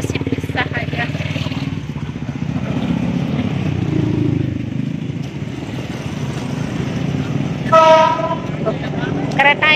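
A commuter train rolls past on the line toward Bogor, a steady low rumble under nearby conversation, with a short horn toot near the end of the stretch.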